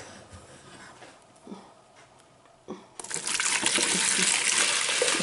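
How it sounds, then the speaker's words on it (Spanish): Hot, not boiling, water gushes steadily into a container while making homemade liquid laundry soap, starting with quiet handling sounds and then a loud, continuous pour that fills the rest of the clip. "ahora le voy a añadir el agua caliente"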